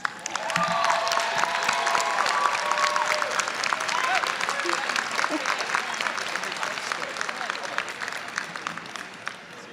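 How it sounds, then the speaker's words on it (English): A standing audience at a nursing program pinning ceremony gives a round of applause, sustained clapping from many people with a few cheers and voices, starting strong and slowly tapering toward the end. "Please stand and let's give them a round of applause"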